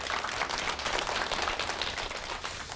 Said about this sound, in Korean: 정리 컨설턴트 윤선현 대표께 다시 한번 큰 박수 보내 주시기 바랍니다